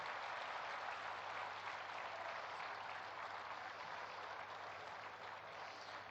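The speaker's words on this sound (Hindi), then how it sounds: "एक दूसरे के उत्साहवर्धन में तालियों की गड़गड़ाहट कर रहे हैं।" Steady, dense applause from a large crowd at a temple inauguration by India's prime minister, loud and sustained throughout with no voices breaking through.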